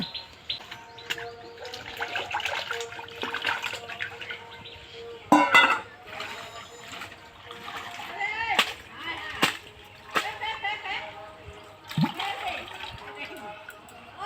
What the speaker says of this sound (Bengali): এগুলোকে আমি ঘাটে নিয়ে গিয়ে পরিষ্কার করে ধুয়ে নেব